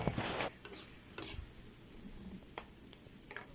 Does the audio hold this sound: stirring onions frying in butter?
yes